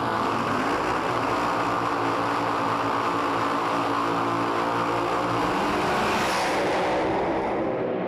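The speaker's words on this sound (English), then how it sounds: "A lot of revs on board, Mark." A drag racing car's engine roars hard and continuously at high revs, a loud, dense, sustained blare that holds steady before trailing off at the end, with no talk over it.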